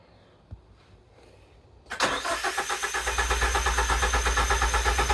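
A 1987 Nissan 200SX S12 Silvia drift car engine cranks and catches on a cold start, then settles into a loud, rough, pulsing idle close by.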